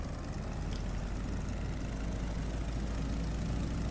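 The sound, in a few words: Stearman biplane engine idling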